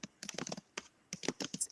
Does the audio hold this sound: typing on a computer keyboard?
yes